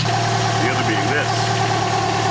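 A Chrysler 2.5 engine with a ticking noise in its upper section idles close by, a loud, steady mechanical drone with someone talking over it.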